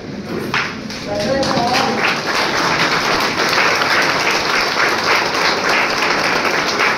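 An audience rises for a standing ovation at an inter-college speech competition at SSGM College, with loud, sustained clapping that fills the hall and voices mixed in.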